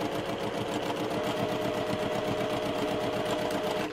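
Steady, rapid mechanical chatter of a sewing machine stitching a 1/4 inch quilt block seam, close and continuous without pause or speech.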